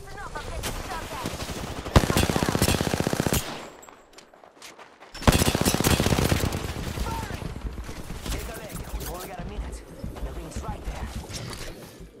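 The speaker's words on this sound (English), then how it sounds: "Listen up, I'm getting shot at." Automatic gunfire in the battle royale game Apex Legends comes in loud, rapid bursts: one volley, a brief near-silent gap, then a second heavy stretch of shooting that trails into scattered shots.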